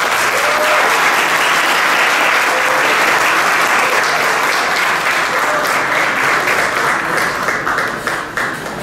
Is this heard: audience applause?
yes